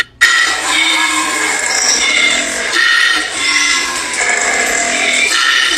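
Harsh, rasping koala bellow from an Australian koala, a loud, continuous grinding snore-like roar with rhythmic pulses, close and alone for several seconds.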